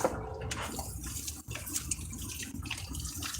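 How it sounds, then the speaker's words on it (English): Hot water poured out into a sink, a close splashing trickle running steadily for a few seconds with a short pause midway. "I guess we'll pour this water out."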